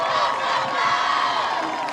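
A high school football crowd murmurs and cheers from the stands before kickoff, a broad steady roar with scattered shouts, heard from a distance with no close voices.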